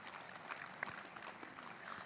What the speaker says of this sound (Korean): 격려와 응원의 큰 박수 보내주시면 감사하겠습니다